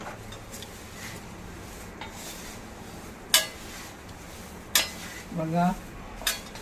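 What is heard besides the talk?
thin poha flakes roasting in a kadhai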